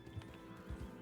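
Horse sounds in Red Dead Redemption 2, with a couple of low hoof thuds and snorting bursts, moderately near beneath a quiet game background.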